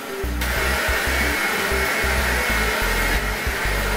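A kitchen stand mixer kneads bread roll dough, a loud steady motor whir that pulses in rhythmic surges as the hook works the dough, running continuously with no talk.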